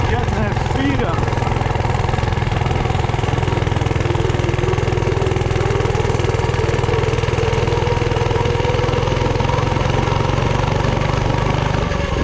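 A Coleman CT100U mini bike engine runs steadily and loudly up close, with a continuous, throbbing putter and no break, while a person talks over it.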